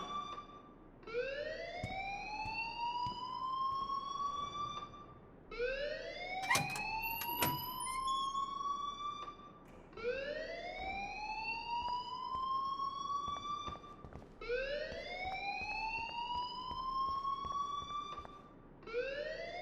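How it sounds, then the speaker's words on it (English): An electronic alarm in the video game Life is Strange Remastered wails in a steady cycle of rising sweeps, repeating about every four to five seconds at moderate volume, with a few sharp clicks partway through. "please turn off that alarm since that's your job"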